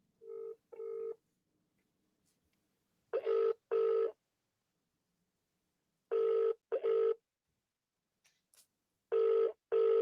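A telephone rings out on an outgoing call in a double-ring pattern: four evenly spaced pairs of trills, clear and fairly close, with no talking.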